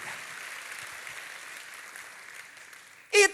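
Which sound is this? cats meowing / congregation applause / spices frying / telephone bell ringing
congregation applause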